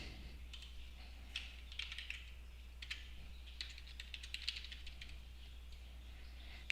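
Login details are typed on a computer keyboard: quiet, close key clicks come in irregular quick bursts with short pauses, over a low steady hum.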